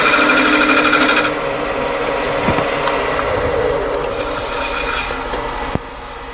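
A wood lathe turns a workpiece while a scraper cuts, shavings coming off with some tear-out; a steady loud machine whir with rough scraping texture, a brief pitch change partway and a sharp knock near the end.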